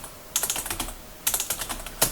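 Keys clatter on a computer keyboard in two quick bursts of rapid typing separated by a short pause, close and fairly loud, with no talking.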